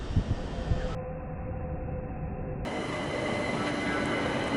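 A TfL Rail train bound for Hayes and Harlington pulls away from a London station, giving a steady rumbling roll with rising wheel and motor noise and no speech over it.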